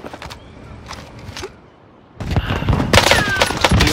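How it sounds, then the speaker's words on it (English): Gunshots crack out in a video game match, a few sparse shots at first, then a loud sustained volley of gunfire after a brief lull. "I'm under fire!"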